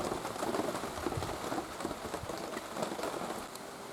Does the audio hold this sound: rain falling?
yes